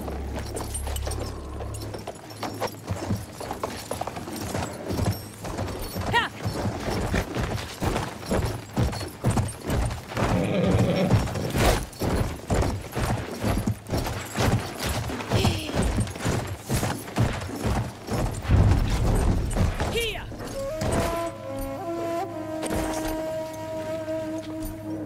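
Horses galloping in Battlefield 1, a long run of rapid, steady hoofbeats pounding close and loud for most of the stretch, fading near the end as other tones take over.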